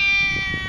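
A cat meows at feeding time as a can of cat food is offered, one drawn-out close meow, fairly loud and clear with no voices over it.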